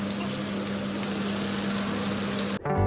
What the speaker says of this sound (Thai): อยากกินโคเรียบาร์บีคิวก็เลยได้เอาหมูสเต็กมาย่างกัน ย่างกับกระทะ